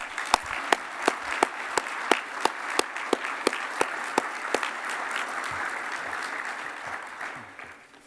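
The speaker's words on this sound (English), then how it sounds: "Let's give these guys a round of applause." An audience at an award ceremony for a hall of fame induction applauds steadily, with sharp individual claps standing out over the dense crowd clapping before it gradually fades.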